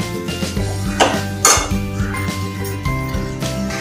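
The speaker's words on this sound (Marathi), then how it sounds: "आता छान परतवायचं। गॅस फास्ट केला तरी चालेल।" Prawn masala stir-fried in a pan over high heat, with a steady sizzle and repeated clinks of a spatula against the metal, close and fairly loud, with no talking.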